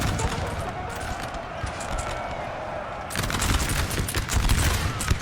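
Dense, crackling musket volleys rattle continuously through a Napoleon Total War battle, with many overlapping shots swelling louder toward the end.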